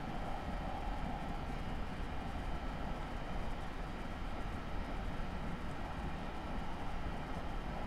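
A low, steady rumble and rolling hum of a North Jersey Coast Line train coasting in Train Simulator 2017, quiet and continuous with no change in pace.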